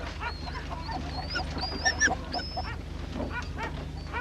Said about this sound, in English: Whose are them kangaroo dogs outside?